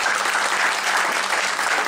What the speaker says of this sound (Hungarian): Hölgyeim és uraim, egy nagy tapsot kérnék az ifjú párnak.